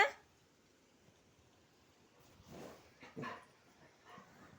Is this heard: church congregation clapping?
no